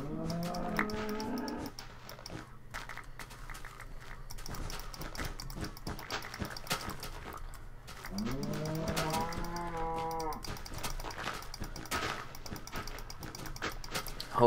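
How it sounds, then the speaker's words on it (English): Cows mooing in the Minecraft video game, two long drawn-out moos, one near the start and one midway, over a soft busy background of game sounds, with no talk. "these stupid cows."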